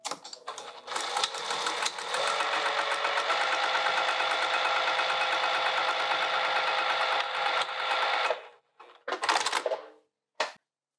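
A sewing machine stitches a vinyl sling in one long, rapid, rattling burst of about eight seconds, then gives a couple of short stops and starts.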